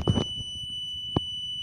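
Accident avoidance system alarm on a test vehicle using CAN protocol, a steady high electronic tone sounding continuously with two short bursts of clatter, one at the start and one near the middle.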